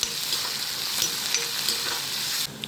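Onions and green chillies with turmeric frying in a pan for an eggplant, tomato and broad bean curry, a constant bright sizzle with faint stirring scrapes, close and loud, cutting off abruptly just before the end.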